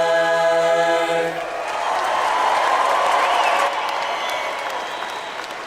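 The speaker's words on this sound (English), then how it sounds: "Give them another round of applause, please." Sustained applause and crowd noise at a high school graduation ceremony in a large hall, honoring the choir after the national anthem's final chord fades; steady, full clapping from a big audience lasting throughout.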